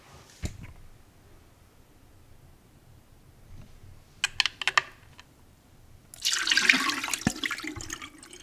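Oil mixture with vitamin E and tea tree drops is poured into a container, a broad liquid splash and trickle that swells near the end after scattered small clicks and taps.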